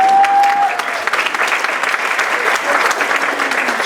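Loud, dense applause from a summit audience welcoming someone speaker, with many hands clapping steadily from start to finish and a brief tonal whine at the opening.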